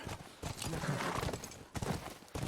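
Horse hooves clip-clop steadily during riding in the video game The Last of Us, close and fairly loud, with game ambience and brief rustling bursts around the galloping rhythm.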